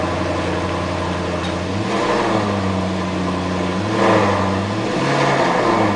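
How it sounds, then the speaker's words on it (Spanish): A Maserati GranTurismo engine running close up, a loud steady mid-pitched hum that rises and settles in short revving blips over a few seconds, with no voices. "¿Ves cómo es muchísimo más delicado el motor?"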